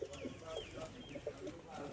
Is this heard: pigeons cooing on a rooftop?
yes